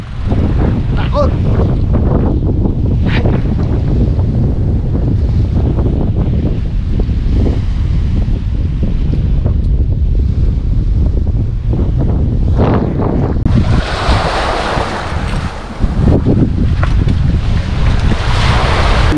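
Strong wind roaring across a rocky shore, heavy continuous buffeting on the microphone with surf rumbling underneath and a brief burst of hissing spray near the end.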